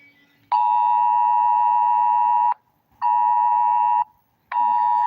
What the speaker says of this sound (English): Phone just going off.